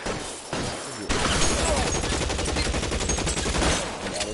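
A Tommy gun fires long, rapid automatic bursts in the video game L.A. Noire, loud and close, with a brief lead-in before continuous fire runs to near the end.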